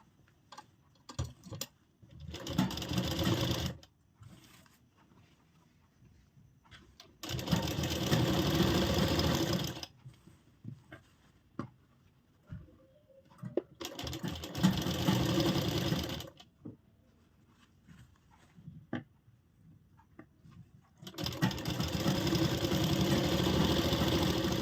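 A sewing machine stitches the side seam of an umbrella frock in four separate bursts of rapid, even whirring, with quiet pauses and small clicks between them.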